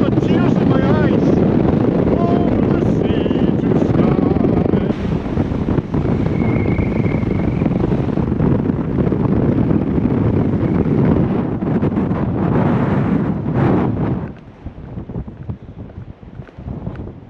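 Strong wind buffets the microphone on a Scotrail train crossing a bridge between Inverness and Kyle of Lochalsh, a loud continuous roar and rumble that drops off sharply near the end.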